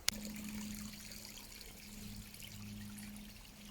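Water from a small garden wildlife pond waterfall spills over rocks as a water-wall feature, making a steady, soft trickling and pouring sound close by with no talking.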